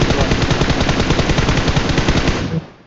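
Rapid automatic gunfire in the mobile game PUBG Mobile, a loud continuous burst of evenly spaced shots that cuts off and fades out at the end.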